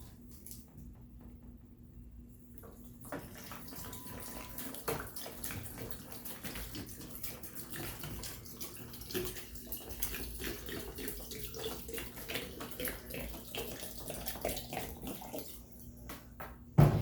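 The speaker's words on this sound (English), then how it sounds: "And then add my purified water." Purified water pours steadily into a jar of sugared orange pieces for homemade vinegar, a continuous rushing, splashing stream that holds for most of the stretch.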